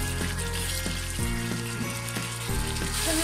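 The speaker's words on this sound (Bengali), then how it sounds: "মশলাটা আমি 2 মিনিট থেকে 3 মিনিট আমি এটাকে ভালোভাবে কষিয়ে নেবো মশলাটাকে।" Masala spice paste for mutton kosha frying in a pan, a steady close sizzle with a few soft stirring scrapes, with no talk.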